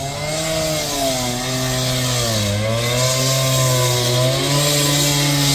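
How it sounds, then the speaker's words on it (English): A continuous loud motorized whine with wavering pitch, like a chainsaw or power saw running steadily nearby, with no talking. "It's like construction going off over there."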